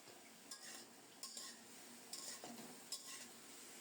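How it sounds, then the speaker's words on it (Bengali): Cauliflower pieces being stirred in a frying pan, the utensil scraping and clinking against the metal in a few distinct strokes over a faint, steady sizzle, close and quiet. "ফুলকপিগুলো নেড়ে চেড়ে দিচ্ছি, ভাজা হতে থাক।"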